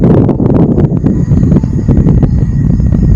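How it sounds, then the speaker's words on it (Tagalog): Strong, steady wind at a riverside campsite in Tanay, Rizal roars and buffets the microphone, a loud low rumble with constant gusting turbulence throughout. "malakas pa rin yung hangin, as in malakas talaga yung hangin."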